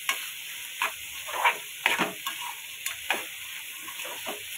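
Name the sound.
bitter gourd frying in pan on low flame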